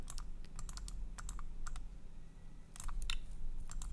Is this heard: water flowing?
no